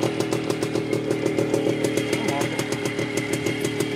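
A Derbi Senda motorcycle engine runs close by with a fast, even, rattling putter that holds steady throughout, with no one speaking.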